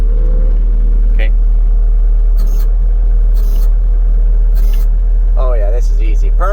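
Case skid steer running with a loud, steady low engine rumble close by, while a person talks over it in short bursts.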